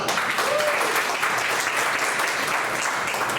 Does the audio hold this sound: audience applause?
yes